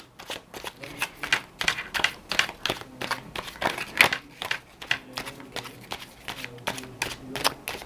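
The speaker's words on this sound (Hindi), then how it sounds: "मैं फिर भी एक बार शफल कर लेती हूँ" A deck of cards is shuffled repeatedly in a close, steady series of crisp riffling flutters and taps that runs through the whole stretch, with no talking over it.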